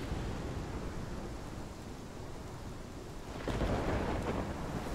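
A thunderstorm rumbles in the video game Life is Strange, with steady rain noise and a low roll of thunder that grows louder toward the end.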